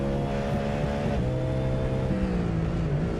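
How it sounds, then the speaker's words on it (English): A Cadillac V8 prototype race car engine in iRacing at Virginia International Raceway hums steadily at moderate level, a rumbly tone shifting pitch slightly as the car changes speed. "This is one of the V8 prototypes. So if it sounds a little bit different, well, that's why."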